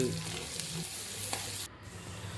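Onions, about twenty small ones plus half a large onion, frying in oil for chicken biryani, giving a steady broadband sizzle with a few stirring scrapes and a brief dip in loudness near the end; no one speaks.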